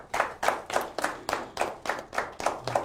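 Rhythmic clapping at a Zambian political endorsement event for President Hakainde Hichilema, steady even beats about three per second, close and fairly loud, with no voices over it.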